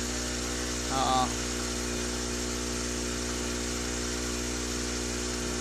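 Submersible pump running, a constant low electrical hum with steady tonal drone throughout, while a voice briefly makes a short sound near the start.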